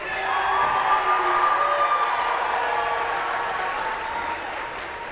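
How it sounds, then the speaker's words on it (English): Crowd cheering and applauding at a robotics district finals event, a sustained loud wash of clapping and shouts filling the hall for several seconds, slowly easing toward the end. "pick a team and cheer because it's great when it's loud in here"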